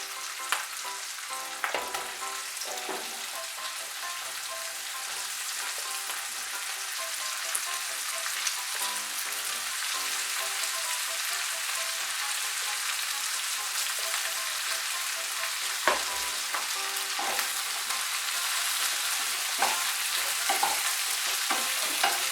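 Cut eggplant pieces frying with onions in a pan, a continuous crackling sizzle with intermittent scraping stirs, close and steady with no talk.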